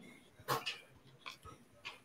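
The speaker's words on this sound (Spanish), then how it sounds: "Ya me van a ayudar con el perrito." A small dog gives several sharp yips and barks with a brief whimper between them, irregularly spaced and fairly close, in an otherwise quiet indoor setting.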